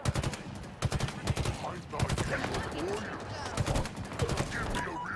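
Rapid automatic gunfire in Halo Infinite, repeated sharp bursts of close shots in quick rhythm, loud and continuous with brief gaps, as a voice talks over the firefight.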